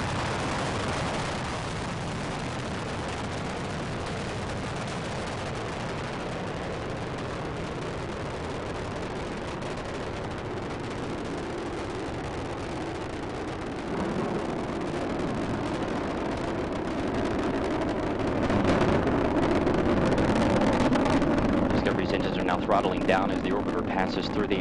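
Space shuttle Discovery climbs away on launch for mission STS-133, a broad, continuous rumbling roar that stays heavy throughout and swells slightly louder toward the end, with a commentator's voice speaking over it.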